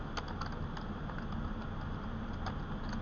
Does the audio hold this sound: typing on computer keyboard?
yes